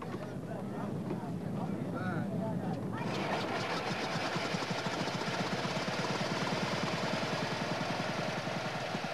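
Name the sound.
vintage car engine running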